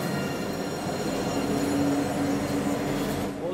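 A tram rolling into a station in Nottingham, a loud steady rumble of wheels on rail with a drawn-out metallic squeal in the middle, close to the listener.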